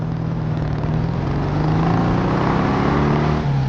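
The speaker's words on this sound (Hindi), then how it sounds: "ये गाड़ी की आवाज कैसी है, लगता है कोई आ रहा है।" A car pulls up in the Granny Chapter 2 horror game, its engine a steady, fairly loud drone that swells slightly midway and holds for a few seconds with no talk over it.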